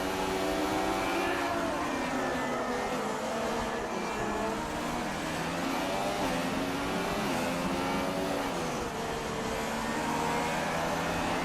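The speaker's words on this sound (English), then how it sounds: "Car sounding absolutely beautiful as well." Formula 1 race car engine in the F1 2016 racing game on PS4, a sustained high-pitched whine rising and falling through the gears, loud and continuous, with no one talking.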